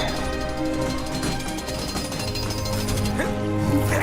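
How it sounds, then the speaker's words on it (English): Rapid jackhammer-like drilling in LEGO Marvel's Avengers, a steady loud rattling with tonal machine hum, building slightly toward the end. "Come on, Doris, let's get her drilling."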